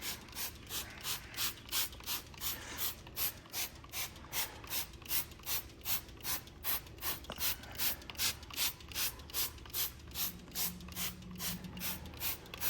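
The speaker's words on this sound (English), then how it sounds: "let's go ahead and spray this on" Ethos wheel and tire cleaner sprayed onto a car wheel from a trigger bottle, heard as a rapid, even run of close, sharp spritzing pumps repeated many times in a row.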